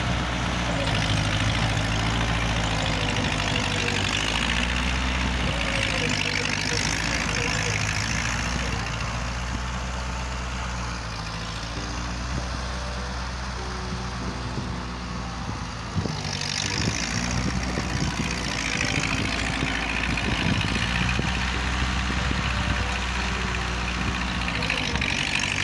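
A tractor engine runs continuously in deep snow, a loud low rumbling drone with a steady idle and slight load changes, close by and without pause for the whole stretch.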